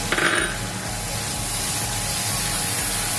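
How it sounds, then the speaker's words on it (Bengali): Water poured into a pan of ground mustard and chilli paste for a fish-head dish, a steady hissing, broadband splash and sizzle that carries on loud and close throughout, with no voices. "সর্ষে লঙ্কা বাটা, জল দিয়ে দিলাম"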